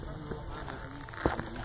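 Bees hum on a bright mountainside at Mount Rainier, a soft continuous buzzing close by with a brief louder burst as one passes, under faint outdoor ambience.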